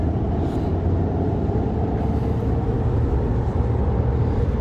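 Steady low rumble of road and tire noise inside a lifted 2020 AEV 2500 pickup truck at highway speed, heard from the back seat, continuous and even with no talking.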